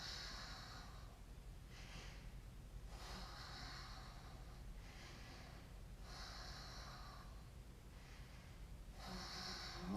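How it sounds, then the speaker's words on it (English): Slow, steady breaths during a yoga locust pose, each long inhale and exhale rising and falling in a regular rhythm, quiet and close with no talking. "here for 5 breaths"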